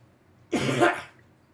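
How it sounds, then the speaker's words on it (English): A single hoarse cough burst, close and fairly loud, lasting about half a second, with quiet before and after. "if you hear me coughing, I'm kind of sick"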